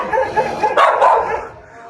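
A female dog barks twice in quick succession, loud and close, with voices talking before and after the barks.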